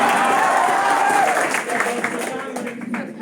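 An audience at a stage performance gives loud, sustained applause that thins into scattered claps, with a voice audible over the clapping.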